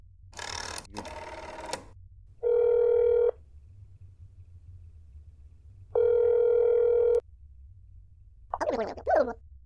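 A telephone rings twice in a video game: two short electronic tones, each under a second long and spaced a few seconds apart, between brief bursts of other game sounds.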